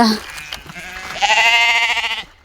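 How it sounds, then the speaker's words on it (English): A sheep in a Kenyan countryside village lets out a loud, close bleat lasting about a second, preceded by faint rustling and a brief murmur. "I wanted to say there's a sheep here."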